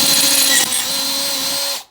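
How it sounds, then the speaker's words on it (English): A power drill whines steadily through a small L-shaped metal bracket while a mudflap is fitted to an Austin Allegro. The motor pitch drops slightly partway through, then the drill stops abruptly near the end, loud and close, with no voices. "which I'm just going to drill."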